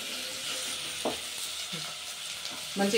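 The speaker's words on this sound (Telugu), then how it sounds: "ఆయిల్లో మంచిగా వేపుకోవాలా. అల్లం వెల్లిగడ్డ వేగాల, మంచిగా" Ginger garlic paste fries in oil for a goat tripe and gongura curry, giving a steady, moderate sizzle with a few brief scraping stirs, close by and with no one talking.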